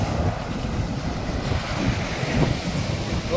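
Strong wind at sea buffets the microphone in a continuous roar, mixed with the wash of waves, loud and unbroken with no voices.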